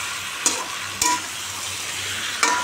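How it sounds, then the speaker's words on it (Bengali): Potatoes frying with spices in a pan for aloo dum, a loud close sizzle broken by three quick scraping stirs of a spoon. "আলুগুলো দিয়ে ভালো করে একটু নাড়বো চাড়বো।"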